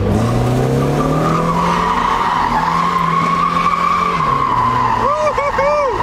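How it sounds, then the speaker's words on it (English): A Mazda Miata with a welded differential drifts with a loud, sustained tire squeal over a droning engine, wavering squeals rising near the end as people talk over it. "Now you can drift."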